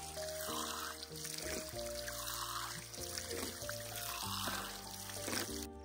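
Water runs from an outdoor drinking-water tap on a village outskirts in Australia, a quiet, continuous pouring trickle under background music.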